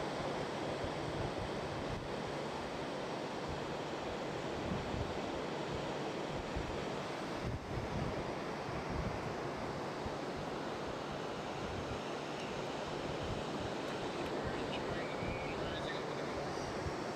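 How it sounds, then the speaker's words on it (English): Gulf of Mexico waves roll onto the shore at night in a continuous, washing rush of surf, with some wind noise and no clear breaks between breakers. "The sound you hear in the background is actually the ocean, or the Gulf, the waves coming in"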